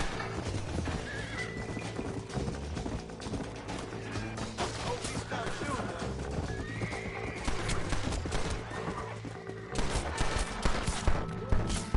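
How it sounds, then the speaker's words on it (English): A horse whinnies over steady clip-clopping hooves in Red Dead Redemption, mixed into a dense game soundtrack with bursts of gunfire and occasional talk. "Let me catch this freaking horse first,"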